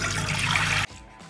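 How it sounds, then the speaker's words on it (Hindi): Water pours steadily and heavily into a cooking pot, two glasses' worth for a homemade sweet syrup, then the flow cuts off abruptly, leaving a faint trickle in a quiet kitchen. "अब एक बर्तन में मैं 2 गिलास पानी डालूंगी"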